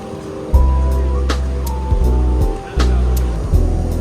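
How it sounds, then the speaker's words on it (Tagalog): Strong ocean waves crash onto a beach in Bali, Indonesia, in several loud, close surges over a steady roar of surf. "Grabe yung alon dito."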